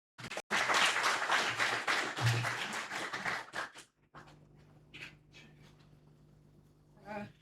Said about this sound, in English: Another big hand of applause for the Honorable DM.